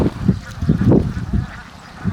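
Ducks quack repeatedly at a duck-farm pond in Suphan Buri, Thailand, with close, overlapping calls in an uneven rhythm over a steady outdoor background.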